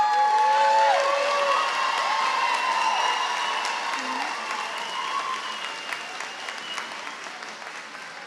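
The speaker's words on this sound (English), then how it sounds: "round of applause." Sustained applause and cheering fill a 2024 commencement ceremony at Rhodes College & Career Academy, with a few whoops near the start, then dense clapping that slowly thins and softens toward the end.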